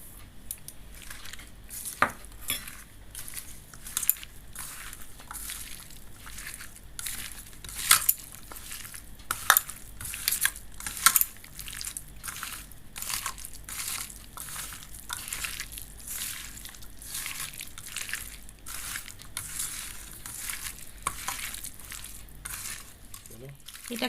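Raw chicken is mixed by hand with cornflour and besan batter for crispy pakoda, giving a steady run of wet squishing and slapping with occasional clinks against the bowl, close up and continuous, while a voice talks at times.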